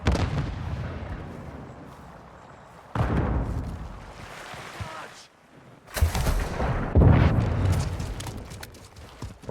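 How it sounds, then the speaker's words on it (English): A stun grenade thrown and detonating amid gunfire in Call of Duty Modern Warfare 2, heavy booming bursts and blasts rising and falling in loudness, with sharp loud impacts near the end. "Throwing stun grenade!"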